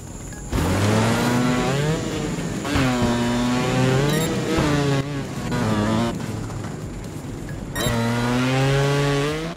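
Buggy engine in the Trials Fusion racing game revving hard and accelerating, with rising harmonic whines through repeated gear shifts, loud and close throughout with no talk.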